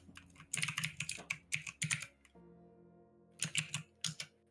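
Bursts of quick keystrokes on a computer keyboard, close and crisp, with a short pause before another flurry of clicking.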